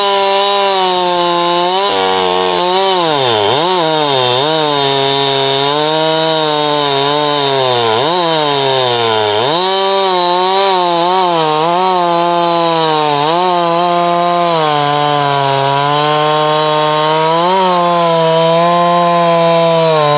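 A McCulloch chainsaw runs steadily and loud for about twenty seconds, its engine pitch swooping down and back up several times as the throttle is worked, close by and alone.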